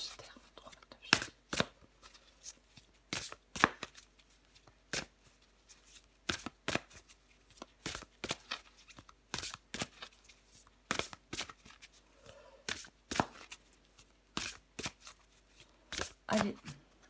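Cards shuffled and drawn for a tarot-style reading: crisp, rapid riffles and snaps repeat throughout, close to the mic, with a soft voice faintly present between them.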